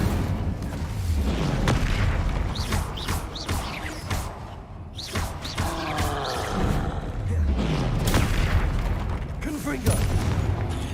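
An Incendio fire spell in combat in the Hogwarts Legacy video game, a continuous roaring whoosh layered with repeated booms, creaks and clanks over about eleven seconds, with a voice heard briefly amid the din.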